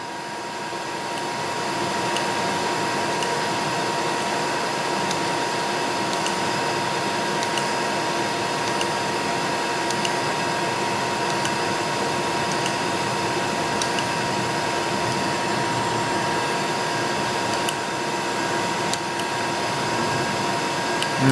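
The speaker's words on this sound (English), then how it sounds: "I'm going to drill all these the same depth" A drill/mill runs steadily while drilling holes to a set depth, giving a continuous machine whine and hum with a faint regular ticking, close and unbroken throughout.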